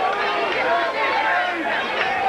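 Lively crowd at a nighttime baseball game in a stadium, a steady wash of chatter and murmuring voices with no single standout shout, continuous and fairly loud throughout.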